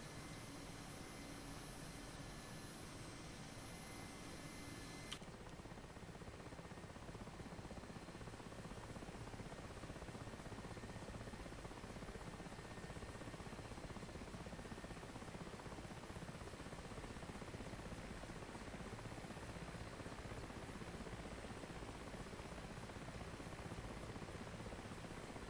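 A Mi-8 helicopter taxiing in the DCS flight simulator gives a steady, unbroken turbine and rotor drone, fairly faint and even throughout, with no speech over it.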